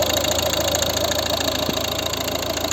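The 1.6 HDi diesel engine of a 2012 Volvo V50 idles nearby with a steady, loud clattering rhythm, constant throughout with no voices.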